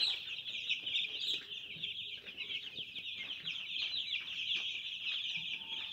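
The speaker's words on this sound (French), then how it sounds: "les poussins sont là, ils vont bien" Eleven-day-old chicks peep in a steady, dense chorus of high shrill calls from close by, with faint rustling underneath.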